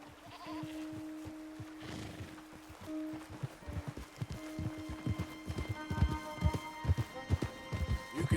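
Rhythmic horse hoofbeats clop steadily in the video game Red Dead Redemption 2 over a soft ambient bed, growing louder and denser toward the end, with a faint animal bleat early on.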